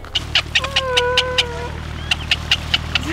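Waterfowl at Lake Titicaca, Peru, giving a run of short, evenly spaced calls, a pause, then another rapid series, close and fairly clear over faint low background noise.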